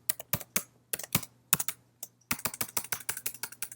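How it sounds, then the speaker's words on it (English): Keys on a computer keyboard tapped to enter a password, a few separate clicks first, then a faster run of steady, close, crisp keystrokes with no talking. "Type your password to unlock the program."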